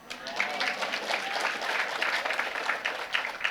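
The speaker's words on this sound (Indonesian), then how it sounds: "tepuk tangannya lemes banget" Thin, subdued applause from a church congregation, a steady patter of scattered clapping lasting several seconds at moderate distance, with faint voices mixed in.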